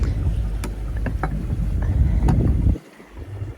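A sailboat's inboard engine runs steadily at sea, a dense low mechanical rumble with faint ticking and wind noise over it. Near the end the drone drops away briefly and then carries on more quietly.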